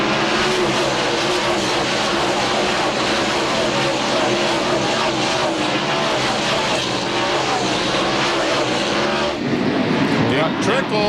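NASCAR stock cars roar around the Martinsville short track during the 1997 Goody's Headache Powder 500, a dense continuous engine drone with passing cars swelling and fading, under steady race commentary.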